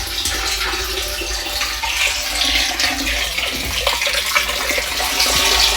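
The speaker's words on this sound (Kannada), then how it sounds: "ಸಣ್ಣೆ ಬಂದವು ನೀರು" Water runs steadily from a tap at close range, a continuous splashing gush that grows slightly stronger toward the end.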